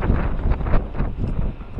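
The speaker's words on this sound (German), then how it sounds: "wir haben hier oben leichten Wind." Light wind at Maspalomas, Gran Canaria, buffeting the microphone in close irregular rumbling gusts, brief and without talk.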